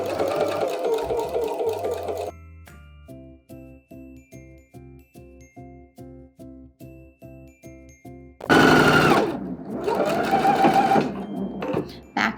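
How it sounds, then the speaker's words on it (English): A sewing machine running in short bursts while edge stitching ribbon onto dress fabric, with a clear repeating mechanical pulse up close, then a louder whirring stretch near the end. "we're gonna stitch at the very edge of the ribbon so that way there's no flap of ribbon and it's just nice and flat on the fabric"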